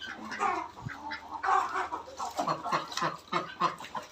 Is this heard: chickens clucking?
yes